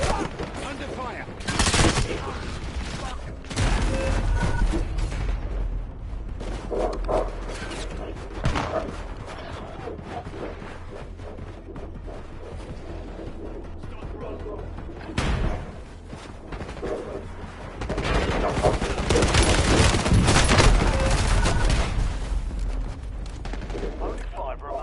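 Gunfire in Black Ops 7 Warzone: repeated loud bursts and single shots, some rapid automatic runs, spread over the whole stretch with in-game voice lines and talk mixed in.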